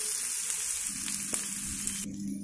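Curry leaves and onions sauté in a hot pan for a lunch-box dish, a steady close sizzle with faint scrapes, with no voice over it.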